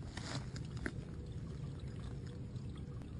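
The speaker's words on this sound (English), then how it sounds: "you can see we've got a good flow of water coming out" Water pours steadily out of the open end of a drain pipe into a ravine, making a constant soft rushing and splashing that is faint and distant, with no voices.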